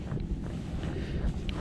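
Wind gusting outdoors, a steady low rumble of microphone buffeting with no speech, heard while someone ties a knot in a rope.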